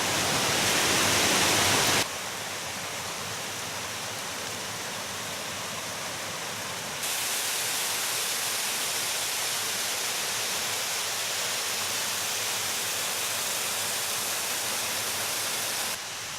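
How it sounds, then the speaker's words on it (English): Continuous roaring rush of Cleddon Falls, a waterfall in the Wye Valley, broadband and steady, with the level shifting slightly a couple of times as if the recording position changes. "These waterfalls come and go, depending on the weather."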